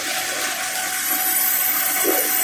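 A radial drilling machine drills into metal while its feed lever is pressed, giving a steady high whine and grinding hum close up, with a rising scrape near the end and no talk.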